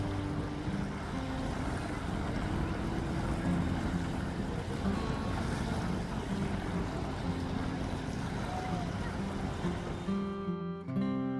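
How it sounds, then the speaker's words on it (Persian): Water rushes and churns in a continuous, dense wash with a windy roar, steady and loud throughout, tapering off abruptly near the end. "مثل همین صدای آب"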